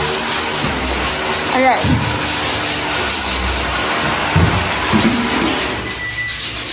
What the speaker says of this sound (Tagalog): Nagliliha, liha-liha.